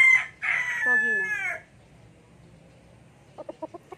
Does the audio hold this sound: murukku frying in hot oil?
no